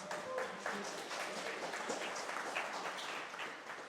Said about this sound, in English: please give them a big round of applause for setting all this up